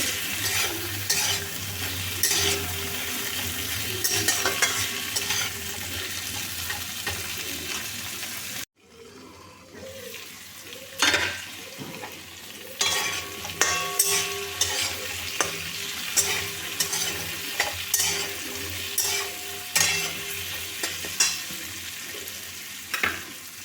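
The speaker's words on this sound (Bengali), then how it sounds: "এই ছোলাটা দিয়ে দিলাম সব একসাথে মিশিয়ে নিয়ে নেড়ে নিচ্ছি" Pumpkin and soaked chickpeas sizzle in a frying pan while a spatula stirs with repeated scrapes and clanks, steady frying throughout apart from a brief near-silent gap, close and fairly loud.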